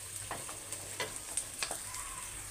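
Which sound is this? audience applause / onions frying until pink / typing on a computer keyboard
onions frying until pink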